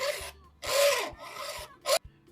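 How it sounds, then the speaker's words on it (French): Rough rasping strokes of a sharpening tool dragged back and forth across a blade on an American farm, four bursts with short pauses, close and fairly loud. "ce bruit-là, vous entendez, ça aiguise"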